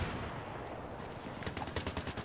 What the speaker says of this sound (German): Oh, oh, da wird auf mich geschossen.